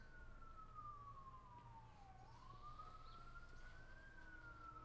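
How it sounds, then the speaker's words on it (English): A fire truck or rescue siren wails outside, a single long sweeping tone that falls, then rises and holds steady. Traffic rumbles low underneath, and the siren stays loud and fairly close throughout. "Sirens? Sounds like a fire truck."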